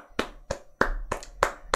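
A handful of close hand claps, six in all, come in a loose rhythm with a faint low hum beneath them.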